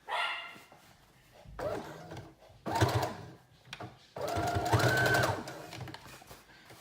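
Sewing machine top stitching denim skirt pieces in bursts of whirring needle runs separated by pauses, close up, with a dog barking now and then.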